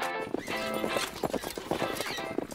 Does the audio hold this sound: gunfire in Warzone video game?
no